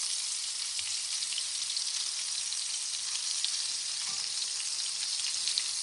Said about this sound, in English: So we are cooking fish today.